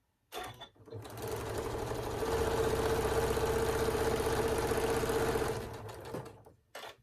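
A sewing machine stitching a quilted Halloween table runner, starting up, running in a steady fast mechanical whir for several seconds, then stopping, close by.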